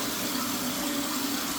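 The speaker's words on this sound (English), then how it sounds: "Let's flush it again to test it out." Steady rushing of a toilet tank refilling through a newly replaced fill valve after a flush, a continuous close hiss of water with no talking.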